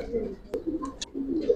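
Giribaz pigeons coo in soft, low murmuring phrases near the listener, with a brief sharper click and faint chirps between the coos.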